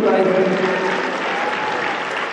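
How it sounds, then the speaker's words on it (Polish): Dense, loud applause for young athletes at a school sports training event with a champion, a continuous wash of many clapping hands in an echoing hall. "Brawa dla zawodników Atlanty"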